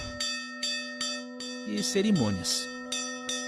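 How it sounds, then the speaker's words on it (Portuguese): A small temple bell in India is struck repeatedly in an even rhythm, each clear metallic strike ringing out with a sustained tone, while someone speaks over the middle of the ringing. "O sino toca o espírito."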